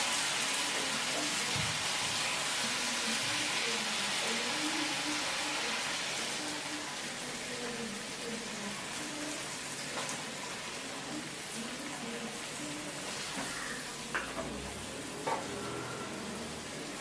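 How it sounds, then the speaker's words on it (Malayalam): Liver curry with coconut milk added simmers in a pan, giving a soft, steady bubbling sizzle with occasional faint clicks of stirring throughout. "ഇതിലോട്ട് നമുക്ക് തേങ്ങാപ്പാൽ ഒഴിച്ചു കൊടുക്കാം."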